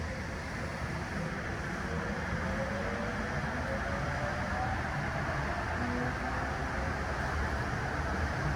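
Steady rumble and hiss inside a nearly empty train on the way to Hong Kong immigration, a continuous broadband ride noise with no clear breaks or voices.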